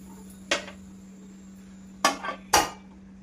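A lid clanks shut on a pressure cooker of mutton chops, with a sharp metallic knock, then two more clattering knocks about half a second apart, all over a steady low hum.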